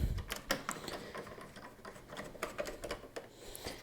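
A screwdriver with a fairly large bit works the back screws of a PS2 console, producing quiet, irregular ticking and clicking of metal and plastic that repeats steadily throughout.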